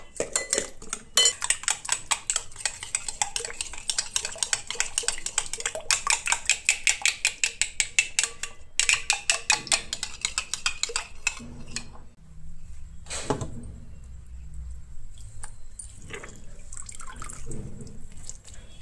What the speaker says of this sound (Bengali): দইটাকে ফেটাতে হবে তো।